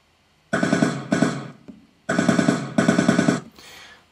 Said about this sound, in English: There's just so many different gun sound effects.